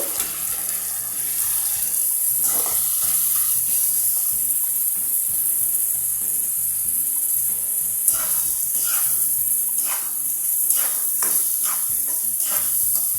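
Onions fry in a pan for an aloo pepper curry, with a steady, close sizzle that runs throughout and occasional stirring scrapes over it.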